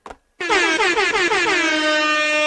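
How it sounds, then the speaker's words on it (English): Rapid-fire DJ air horn sound effect, a long loud blast with stuttering repeated pulses at first that settle into one sustained honk, alone after a short bit of noise. "That's like an assault rifle of DJ air horn."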